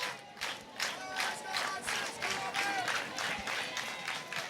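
Stadium crowd at a college softball game between Alabama and Auburn at Jane B. Moore Field, cheering and clapping in a steady, dense wash of applause that swells in waves throughout.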